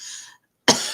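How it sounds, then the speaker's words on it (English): A single sharp cough from a nearby speaker, abrupt and loud after a moment of silence, preceded by the tail of another breathy sound. "So sorry, just this cough."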